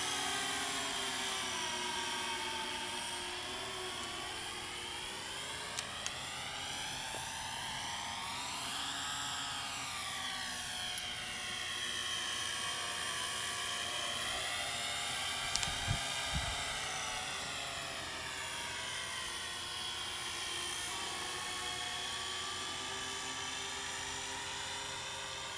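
A Syma X8C quadcopter drone flies nearby with a continuous high buzzing whine of rotors. The pitch rises and falls in sweeping waves as it maneuvers, holding steady loudness throughout.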